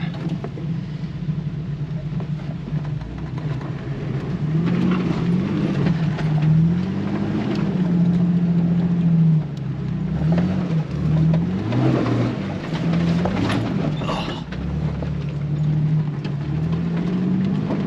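A Jeep TJ engine labors steadily in second gear low range while crawling over a rough off-road obstacle near Stoyoma Mountain, a close, continuous rumble rising and falling in pitch, with wind buffeting the microphone.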